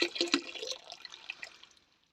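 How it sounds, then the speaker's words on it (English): Warm water pours into a vessel of home-brewed beer wort inside a motorhome, a close splashing gush that gradually thins and fades out over about two seconds, with no voices. "we've added some warmed up water now into there just to get the rest of it out"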